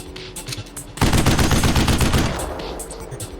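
Rapid automatic gunfire fired at a tank in the video game Operation Darkness, a loud dense burst lasting about a second and a half after a brief lead-in of game sounds.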